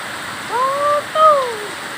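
Floodwater rushes steadily after heavy rain in a broad, continuous wash, with a voice briefly rising over the flow.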